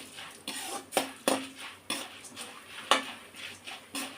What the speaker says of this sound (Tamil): முதலில் கடலைப்பருப்பை நன்றாக போட்டு வதக்க வேண்டும்